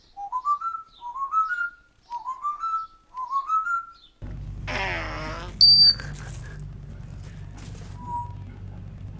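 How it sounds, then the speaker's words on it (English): African grey parrots outdoors at a zoo: four rising whistled notes in a steady rhythm, then a burst of squawking chatter with a sharp high ding, over a low background hum. "they love coming outside and making loads of noises, whistles, dings, dongs, duck noises, seagull noises, every kind of noises you can possibly imagine"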